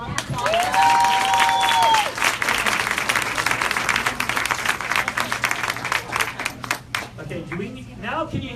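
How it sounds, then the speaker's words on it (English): Studio audience applause at a nutrition-store visit with Dr. Josh Axe and Jordan Rubin, loud and sustained at first, then thinning into scattered claps and crowd chatter before dying away. "a round of applause"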